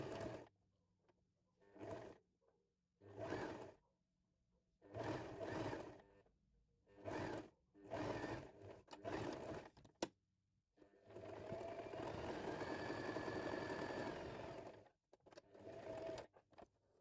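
A sewing machine stitches dress darts closed in a run of short bursts, each a second or so long, followed by one sustained stretch of steady stitching before a final short burst.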